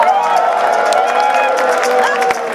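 A comedy club crowd cheers and shouts, many voices overlapping into a loud, continuous roar with scattered whoops and some clapping, sustained almost to the end before dipping slightly.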